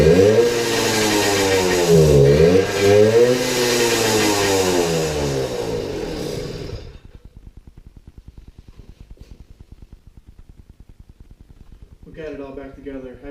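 A Suzuki JR 50 minibike's two-stroke engine revs up and down loudly and close by, then settles into a rapid, rattling idle before revving briefly again.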